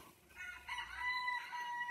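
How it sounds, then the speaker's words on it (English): Chickens on a farm, a short burst of clucking and higher calls at moderate distance, faint and brief, with no talk over it. "Hi, chicken over there."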